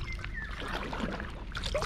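A kayak moves on water with steady splashing and trickling, close and continuous, with no talking.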